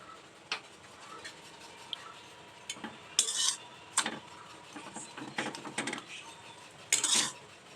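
Dough mixture being turned and stirred in a pan, heard as sparse clinks and scrapes of a utensil against the pan with faint sizzling between, near and fairly quiet, no talking.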